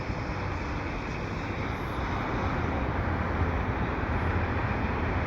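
An Amtrak passenger train rolls past on a viaduct at dusk in a steady, continuous rumble with broad rushing noise, moderately distant and unbroken throughout.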